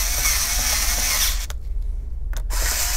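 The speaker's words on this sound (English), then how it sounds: "So just go ahead and tighten up all the screws here." Small screws being tightened on an Asus TUF F15 laptop during an SSD upgrade, a steady close whirring of an electric screwdriver that briefly stops and restarts, no speech.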